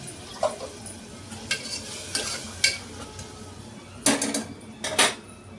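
Ginger, garlic and coriander paste hitting a hot pan for bakra paya bhaaji, a low steady sizzle punctuated by several sharp spoon scrapes and clinks against the metal.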